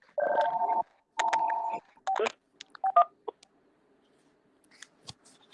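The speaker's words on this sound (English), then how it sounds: "I'm gonna take a phone call real quick." Two long telephone dialing tones sound close and clear before a call, then a run of short clicks and beeps as the phone is handled.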